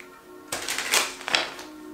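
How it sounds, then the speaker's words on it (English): A deck of tarot cards is shuffled up close: a quiet, brief riffling flutter of about a second against a faint hum. "I'm going to shuffle these cards."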